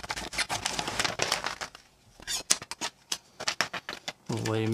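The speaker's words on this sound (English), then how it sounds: "the easiest thing to do is cut this thing in half with some scissors" Scissors snip through a shipping label in a series of short, crisp cuts, each close and distinct, following a stretch of a person talking.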